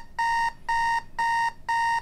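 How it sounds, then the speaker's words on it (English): Alarm clock beeping in four evenly spaced, shrill electronic bursts, each about a quarter second long, loud and close with no other sound. "By playing the same screeching alarm every morning"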